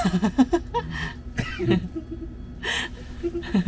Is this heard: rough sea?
no